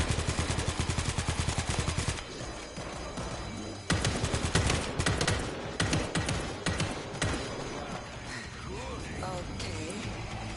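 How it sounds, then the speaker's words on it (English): An automatic battle rifle fires in the zombie shooter game World War Z, with rapid sustained bursts of gunfire in quick rhythmic volleys, loud and close, and occasional talk mixed in. "This is the automatic battle rifle."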